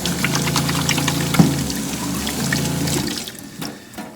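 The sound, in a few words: water running from boat's fresh water tap, rinsing hands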